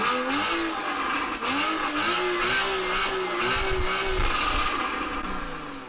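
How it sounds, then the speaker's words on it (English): A stock 2014 Porsche Cayman PDK with a naturally aspirated flat-six revs its exhaust in a steady, loud, rising and falling snarl that carries on without a break and is heard up close with no talk. "Very surprising to have an exhaust that sounds this good from a stock car"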